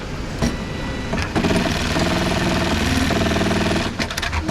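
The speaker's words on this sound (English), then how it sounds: "we are now moving over to a sewing station where we're going to start assembling all the pieces of the garment" An industrial sewing machine stitches together the pieces of a cycling jersey at a sewing station, a loud, rapid continuous rattle that starts and stops in short bursts before running steadily.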